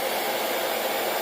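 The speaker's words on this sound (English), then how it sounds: "And get the blow dryer over here." A blow dryer running on its cool setting as it dries ink on a t-shirt transfer gives off a steady, close, airy whoosh that keeps going for the whole stretch, with no talking over it.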